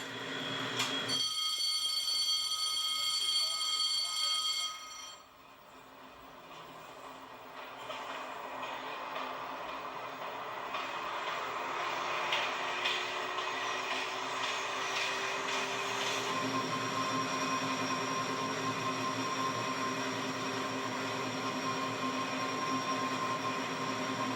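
A CC 72000 electric locomotive accelerating, heard from inside the cab: a steady mechanical hum and whine with a rising tone that builds after a brief drop, continuing without any talk.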